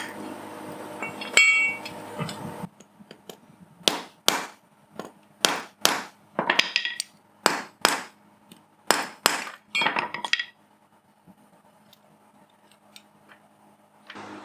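Old Triumph TR4 window parts are struck by hand with a hammer, about a dozen sharp metallic blows in a steady, uneven rhythm, close and loud, then stopping into quiet.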